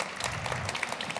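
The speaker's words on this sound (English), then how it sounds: "A round of applause, I think." A studio audience at a sustainability panel gives a short burst of applause, a dense patter of clapping at moderate level, brief and steady.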